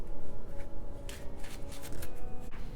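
Oracle cards being shuffled by hand, a series of quick papery riffles and flicks in bursts, close and clear with no talking.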